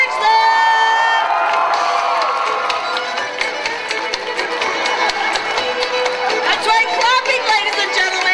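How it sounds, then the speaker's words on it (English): A hypnotist show crowd at the California State Fair screams and cheers loudly and continuously, with whoops and shouting over music throughout. "We need to hear a lot of screaming."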